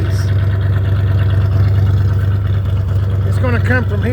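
A 1978 Chevy C10 pickup's engine idles nearby with a steady low rumble throughout, while a voice briefly cuts in near the end.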